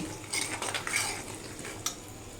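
Homemade hair oil being stirred in a pan: a spoon clinks and scrapes against the metal a few times over a soft, steady sizzle, close and fairly quiet, with no talking.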